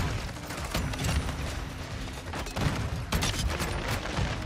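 Slug rounds blasting from a shotgun in a video game, several loud bursts of gunfire layered over constant game action and mechanical clatter, with no speech.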